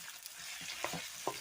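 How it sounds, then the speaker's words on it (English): Steak searing in a hot pan for a stir fry, a continuous close sizzle with a few clattering stirs of a utensil through the meat. "putting in the steak so we can get a nice burn on it"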